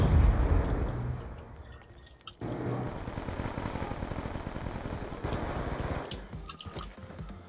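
Rapid gunfire from a heavy gun in the video game Call of Duty Black Ops 2 rattles in dense, repeated bursts with a short pause midway, under steady game background noise.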